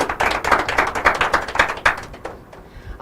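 An audience at an inter-collegiate quiz and debate competition claps in a brisk, rhythmic burst of many hands, loud and close, fading toward the end.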